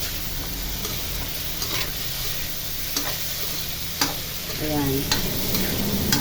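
Diced potatoes fry in a pan for a cheese potato omelette, a steady close sizzle punctuated by sharp utensil taps and scrapes, with a brief spoken word near the start.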